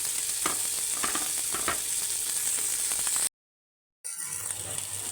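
Chopped tomato frying with ginger-garlic paste for Tamil Nadu mutton biryani, a loud, steady sizzle with stirring scrapes that breaks into a brief silence, then the frying hiss resumes.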